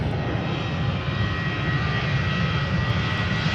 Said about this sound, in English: Singapore Airlines Airbus A350-900 to Singapore, taking off from center